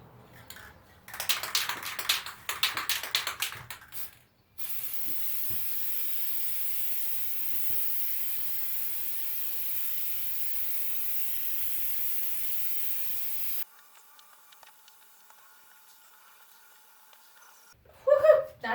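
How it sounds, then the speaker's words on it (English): A spray can of Mod Podge sealer is shaken with a clattering rattle, then sprays onto game cards held close. A steady, loud hiss runs unbroken for about nine seconds, followed by faint handling noises. "Shake it a little bit. Face mask on. And I spray pretty close."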